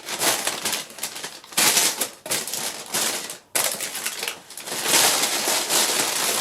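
Electronic components, including electrolytic capacitors, are unpacked from plastic packaging, with bursts of crinkling and rustling plastic close up, pausing briefly between handfuls.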